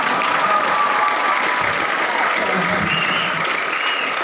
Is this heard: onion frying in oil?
no